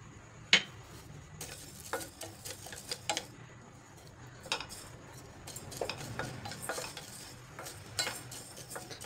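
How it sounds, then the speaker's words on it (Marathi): Coriander seeds being dry roasted and stirred in a pan, with scattered light scraping, rustling and ticking of the spoon against the metal over a soft background hiss, fairly quiet and without talk. "धने भाजून झालेले"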